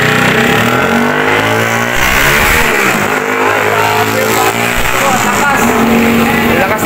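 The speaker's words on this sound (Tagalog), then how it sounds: "Lakas ng motor." A loud motorcycle engine revs up close, its roar rising and falling steadily over several seconds with some background noise.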